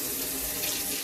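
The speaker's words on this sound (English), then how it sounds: "It's warm water." Warm water runs steadily from a tap during a guinea pig's bath, a continuous close splashing hiss with no voices over it.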